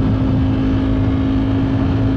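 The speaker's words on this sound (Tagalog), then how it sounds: "Ganito pala ang pakiramdam ng sobrang lakas ng tambucho ng motor mo." A 2022 Ducati Streetfighter V4S motorcycle with a very loud exhaust drones steadily while riding, a constant heavy engine roar with a sustained hum, no talk.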